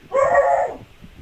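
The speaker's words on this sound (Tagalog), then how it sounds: "Yung aso mo, pre." A single dog bark or yelp, loud and close, lasting about half a second and then giving way to quiet room noise.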